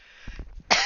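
A video game character coughs in a modded game, giving a few short, rough throat bursts followed by a sharper final cough, all brief and fairly quiet.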